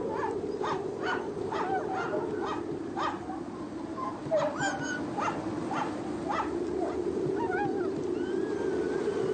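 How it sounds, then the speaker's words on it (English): Sled dogs aboard the ship Endurance, a pack of more than fifty, yelp and bark in a rapid repeated chorus over a steady low rumble, with a few whining calls near the end. "More than 50 dogs are to act as sled teams for the overland crossing."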